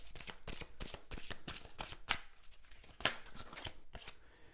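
Oracle cards handled and laid down on a table, a quick series of crisp, close slaps and flicks in an uneven rhythm, with two sharper snaps partway through and no talking.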